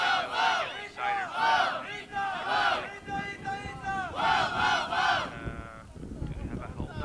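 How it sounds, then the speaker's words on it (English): A crowd at a team marathon competition final shouting and cheering in rhythmic, chant-like bursts, rising and falling in waves, fairly distant and moderately loud. "you can hear the crowd cheering to the moment when they get excited."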